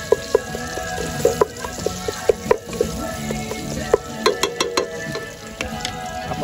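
Garlic sautéing in a pan until brown, a steady close sizzle and crackle with scattered sharp pops and stirring clatter from a utensil against the pan.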